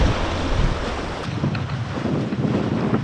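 Steady wind roars across the microphone aboard a sailboat sailing fast, over six knots, in a strong breeze off Oconto, with waves rushing and splashing against the hull beneath it.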